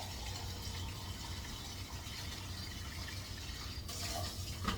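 Water running steadily into a bowl of dog food for a few seconds, a continuous pouring splash, moderately loud and close, with no talking.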